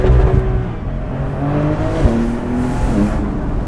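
A 2020 992-generation Porsche 911 Carrera S Cabriolet accelerates hard, its engine revving up through a shift into a loud, rising note heard from inside the car.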